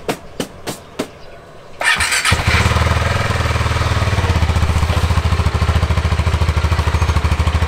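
A motorcycle engine starts after several sharp clicks and cranking attempts, catching with a roar and settling into a loud, steady, rhythmic idle close by, with no talk.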